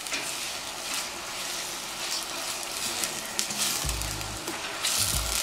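Nigerian bean ingredients stirred together in a pot, a steady broadband frying sizzle with soft scraping and a few low knocks of the spoon, close and continuous without talk.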